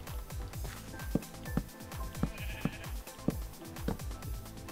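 Sheep bleat a few times in Minecraft over a busy looping game soundtrack with steady rhythmic beats, the animal calls short and fairly prominent.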